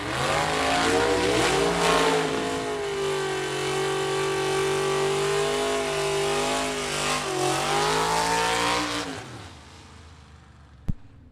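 A 1957 Chevy vintage drag race car roars at full throttle down the strip at a vintage drag race event, a loud sustained engine drone with steady harmonics that bends in pitch near the end, then fades out abruptly.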